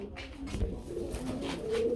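Low, murmuring pigeon coos roll on continuously, soft and close, with no talking.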